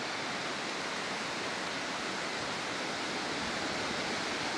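Roadside waterfall in Uttarakhand during the monsoon, water spilling down from above onto the road; a steady, loud, broadband rush of falling water fills the whole stretch without a break, with no voices.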